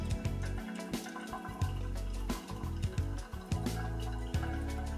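Water is poured over coffee grounds in a pour-over brewer, a steady close trickle with small irregular splashes and drips for several seconds, no talking.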